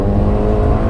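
A 2018 Ferrari Portofino engine accelerates hard, a loud, steady, dense engine roar heard close up with no talk, over a short moment.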